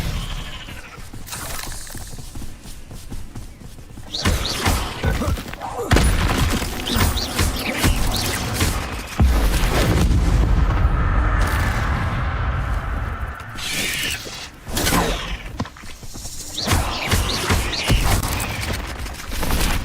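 Incendio and Expelliarmus spell effects crackle and whoosh in Hogwarts Legacy, dense loud bursts and rumbling blasts layered over continuous game noise, with no pause between casts.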